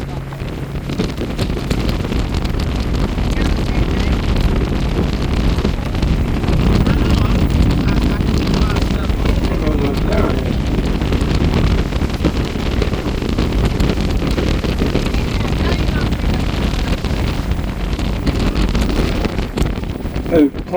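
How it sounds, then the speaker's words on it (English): Strong wind buffets the microphone on a boat tour across a lake in Winter Park, a continuous loud roar mixed with engine and water rumble. "wow, it is windy"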